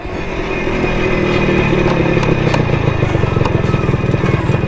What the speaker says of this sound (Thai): นี่คือการขี่สองจังหวะ ครั้งแรก